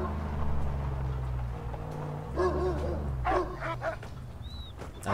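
A dog in the Mad Max video game, with a few short yips and barks amid a low engine-like drone, ending in a brief high whine, and some voice underneath.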